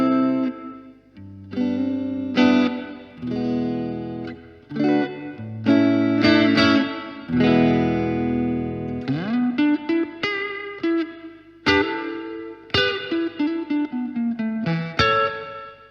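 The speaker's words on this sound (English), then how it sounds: "it's very predictable and it's almost too perfect, the reverb" Electric guitar played through a Blackstar HT1-R amp with its digital reverb turned all the way up, distorted chords and single notes with washy trailing reverb between phrases.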